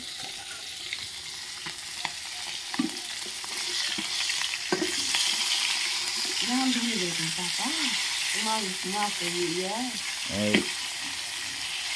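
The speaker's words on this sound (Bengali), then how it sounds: "এখন মাছগুলোকে ভেজে নিচ্ছে" Fish frying in a pan at home, a steady soft sizzle with occasional stirring clinks while voices chatter over it.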